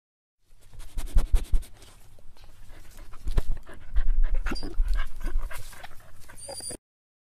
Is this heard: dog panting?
yes